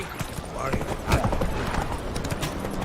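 Hoofbeats of Roach, the horse in The Witcher 3 video game, a steady close clip-clop rhythm under a spoken voice throughout.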